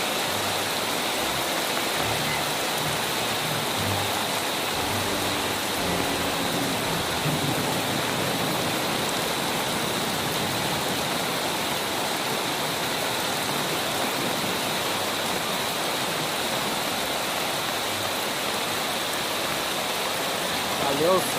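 Heavy rain pours onto a city avenue in São José do Rio Preto, Brazil, during a December storm, a dense, unbroken hiss of downpour and running water lasting the whole stretch.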